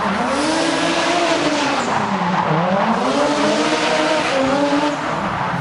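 Drift cars sliding through a turnabout at a Malaysian motor show, with loud high-revving engines rising and falling in pitch over continuous tire squeal, close and dense throughout.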